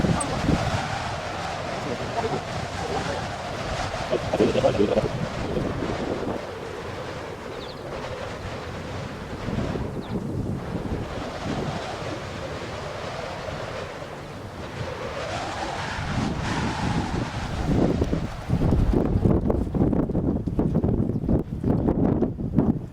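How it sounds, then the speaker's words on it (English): Strong, constant wind sweeps across the lakes of Torres del Paine in Patagonia, roaring and buffeting the microphone in gusty surges, loud and close throughout. "At this latitude, the wind is fairly constant"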